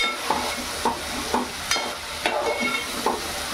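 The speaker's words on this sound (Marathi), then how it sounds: "कांद्याच्या पेस्टला आपण शिजवून घेऊ व्यवस्थित" Onion paste fries in a pan over high heat for an egg paneer masala, a steady sizzle broken by regular scrapes of a stirring spoon about every half second.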